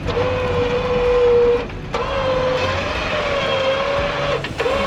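A third-generation Toyota Tacoma's engine held at a steady, loud drone with a slight whine during an off-road winch recovery, dipping briefly and then returning, without voices.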